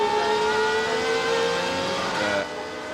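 A 2008 Superleague Formula race car drives at speed on the Zolder circuit during qualifying, its engine holding a loud steady high-pitched whine that climbs slightly before easing off near the end.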